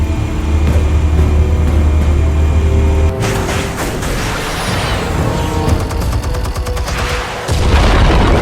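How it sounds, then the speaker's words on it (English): Explosives detonating in Batman The Telltale Series: a loud low drone gives way to a heavy blast and a long stretch of crackling, rumbling debris and bursts, then a deep rumble returns at the end. "Explosives armed. Fire when ready."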